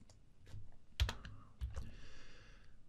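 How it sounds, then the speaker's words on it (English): Fingers type on a computer keyboard, with a few irregular, soft key clicks and a couple of louder, sharper keystrokes in a quiet room. "So I'm just doing some pretend typing in here"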